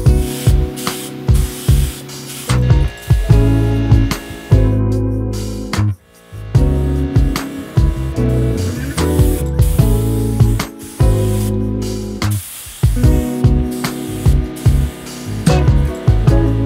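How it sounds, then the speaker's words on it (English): Spray paint can giving repeated test sprays, loud hissing bursts broken by short pauses, close and steady throughout. "always make sure to do your test sprays"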